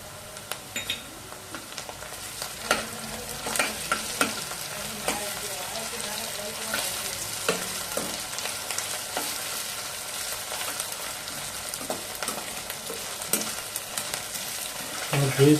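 Ginger garlic paste fries with browning onions for Kathiyawadi dum aloo, a steady close sizzle broken by repeated scraping stirs of a spoon against the pan, with no voices.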